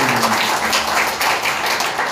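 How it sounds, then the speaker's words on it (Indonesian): A church congregation at GBI Binjai claps together in a dense, steady patter of many hands filling the room, with a faint voice briefly underneath. "Tepuk tangan buat Tuhan."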